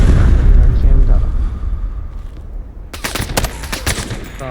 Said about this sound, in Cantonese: 機槍 喺綠拼。